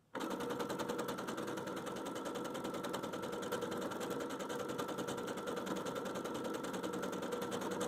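A sewing machine runs steadily through the thick bulk of several folded quilt layers for a pineapple mini quilt, giving a dense, continuous mechanical whir with a fine stitching rhythm, close up and with no one talking.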